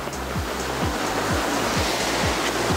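A hand-pumped foam sprayer refilled with only water is pumped for car washing, giving rhythmic low whooshing strokes roughly every half second over a constant loud hiss of air and spray.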